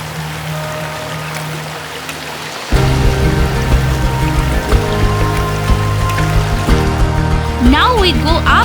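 A river runs beside a flat hiking trail at Landmannalaugar, a steady broadband rush that swells louder after a few seconds and continues unbroken, with faint voices surfacing near the end.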